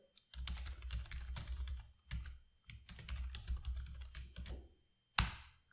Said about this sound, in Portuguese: Então agora eu vou digitar as minhas credenciais.